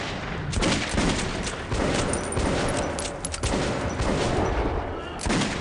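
Dense, continuous gunfire rattles in rapid bursts, loud and chaotic, a video game firefight in Metro 2033 Redux with little pause.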